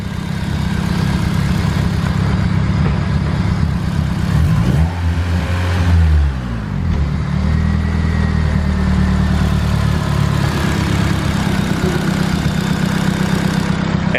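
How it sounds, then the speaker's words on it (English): A Honda Civic EG hatchback with a single-cam turbocharged engine idles steadily and close by, its low, slightly spitty, popping rumble running continuously with a brief swell in the middle. "the motor is really quiet"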